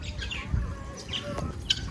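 Village chickens gathering to be fed grain make scattered short chirps and clucks, close by and moderately loud, over a low background rustle with no speech.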